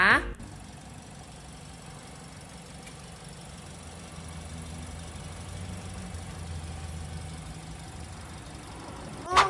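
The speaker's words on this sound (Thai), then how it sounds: "ฟังเสียงเครื่องกันดูนะคะ" A 2018 Toyota Yaris Ativ 1.2S automatic idling with a steady, quiet low engine hum throughout, plus brief louder bumps at the start and end.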